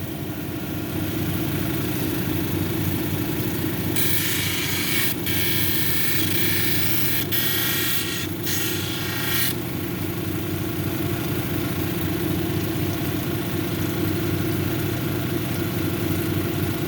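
A cabbing machine grinds a prairie agate cabochon on a 280 grit wheel, giving a steady low motor hum throughout, with a brighter hissing grind that swells in the middle and then cuts out.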